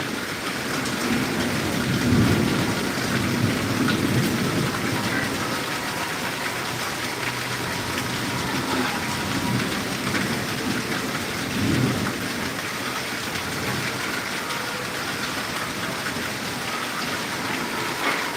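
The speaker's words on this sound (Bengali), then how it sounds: "টাঙ্গালের অবস্থা খুবই ভয়াবহ প্রচুর বৃষ্টি হচ্ছে" Heavy rain pours steadily close by in Tangail, Bangladesh, while low rumbles of thunder roll underneath, a dense, continuous downpour with no voices.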